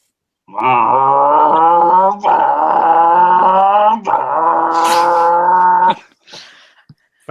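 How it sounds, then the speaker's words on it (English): A dog-like growl: a loud, close, tonal snarl drawn out in three long bursts with brief breaks between them, followed by a few faint clicks. "a dog growling"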